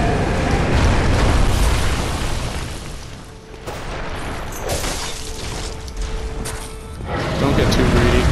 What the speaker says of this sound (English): He's gonna shoot lasers